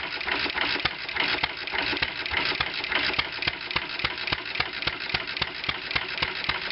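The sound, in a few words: 1920 International type M engine running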